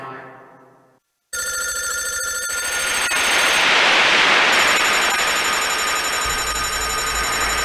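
A telephone bell rings loudly and steadily in a bright, continuous electronic trill, starting after a brief silence and carrying on alone to the end.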